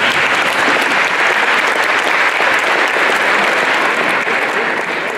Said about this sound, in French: je vous demande de vous lever et de leur donner une bonne main d'applaudissement